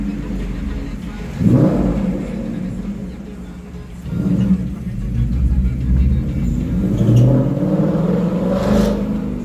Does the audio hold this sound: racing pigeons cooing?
no